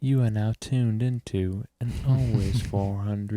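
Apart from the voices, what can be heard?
None of the usual background noises is heard.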